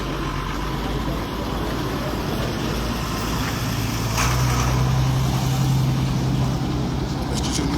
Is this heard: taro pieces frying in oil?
no